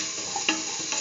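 A spoon scrapes and clinks a couple of times while salt is stirred into a curried chickpea and beetroot stew in a pan, over a steady hiss of cooking.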